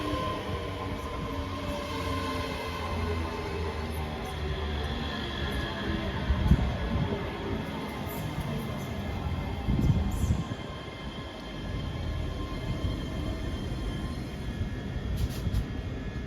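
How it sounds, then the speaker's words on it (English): A ScotRail Class 385 electric train departing Haymarket station in Edinburgh, a steady rumble of wheels and traction hum that swells and rolls past with rhythmic clatter over the rail joints, and no voices. "And departing out now is the 1527 ScotRail service from Glasgow Queen Street to Edinburgh Waverley."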